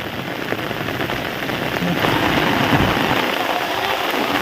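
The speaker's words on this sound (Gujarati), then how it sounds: "વરસાદ તો ધીમો ધીમો આવે છે" Steady rain pours down in a village near Botad during a thunderstorm, a dense and loud hiss of drops hitting surfaces that continues without a break.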